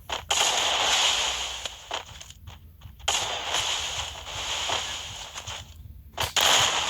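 Rapid gunfire in the Free Fire video game during a 1-vs-2 custom match, with dense bursts of shots close up that break off in short gaps, over steady game background noise.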